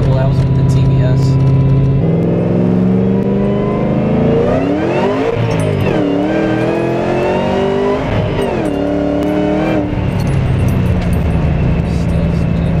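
Ford Shelby GT500 with a Whipple supercharger revving hard as its wheels spin on the road, a loud, sustained engine roar with rising and falling pitch sweeps, a voice briefly heard over it.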